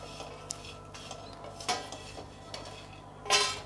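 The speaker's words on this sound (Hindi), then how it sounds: "अब दालचीनी और स्टार फूल भी सिक गए हैं। अब हम इसको रिमूव करेंगे।" Roasted cinnamon sticks and star anise are scraped and lifted out of a dry pan while making homemade garam masala, giving a few scattered metallic clinks and scrapes, with a sharper clatter near the end, fairly quiet overall.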